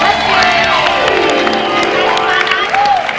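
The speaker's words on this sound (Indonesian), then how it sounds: "Keren, boleh tepuk tangan?" Studio audience on an Indonesian Trans TV talk show applauding and cheering, a dense continuous wash of clapping and crowd noise with a few rising whoops and shouts over it.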